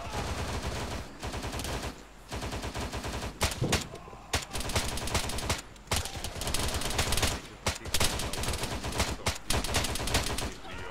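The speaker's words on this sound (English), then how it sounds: "Automatic fire." Automatic gunfire from an Arma 3 zombie-mod video game pours out in long, dense, loud bursts of rapid shots with brief pauses between them.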